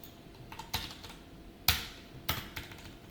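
Several sharp, irregular keystrokes clack on a computer keyboard, close and fairly quiet, with short pauses between presses and no speech.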